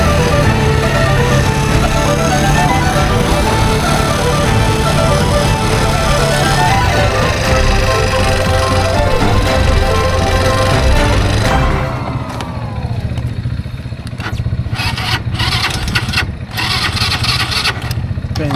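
Quad bike (ATV) engine running steadily with a loud, rumbling drone that stays close and continuous for the whole stretch, its tone shifting partway through amid some handling noise.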